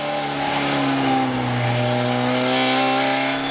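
Race cars in the Supercar Challenge at Assen, Porsche among them, roll toward the start through the final chicane, a dense steady engine drone with layered revs held loud and close for a few seconds without talk.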